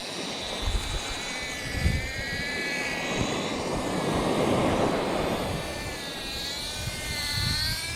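A fishing drone carrying a slab of eagle ray wing as bait flies over Preston Beach, its steady whining buzz holding for several seconds with no talking.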